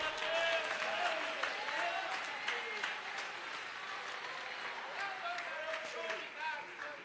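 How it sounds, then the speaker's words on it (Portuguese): A church congregation applauds together in a continuous wash of clapping, moderately distant, with a voice speaking over the applause throughout. "Vai ser, aplaude aí, aplaude aí."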